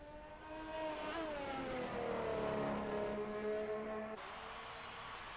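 Haas Formula One car on a lap in an F1 video game on Xbox, a high-pitched engine whine climbing and dropping through gear changes, steady and fairly loud with no talk.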